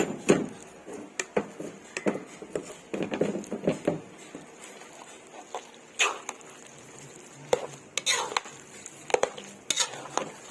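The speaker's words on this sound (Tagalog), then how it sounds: "halo lang ng halo, no? Halo ng halo. Hanggang sa matuyo siya" A ladle stirs thick arroz valenciana in a pot, with irregular metallic scrapes and knocks against the pot alongside soft wet shuffling of rice, close and moderate in volume, with no talking.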